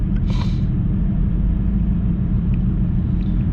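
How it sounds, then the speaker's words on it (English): A 2016 Honda Civic 1.5 Turbo with high mileage gives a steady low road rumble and hum while driving, consistent with a worn wheel bearing drone, continuous and fairly loud with no talk. "when you're driving this along, it kind of does have a like a wheel bearing noise to it when you're driving"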